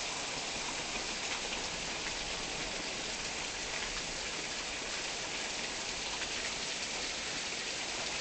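Heavy rain pours steadily through a nighttime thunderstorm in Tulsa, Oklahoma, a dense, even hiss of drops drumming on surfaces with no voices and no clear thunder.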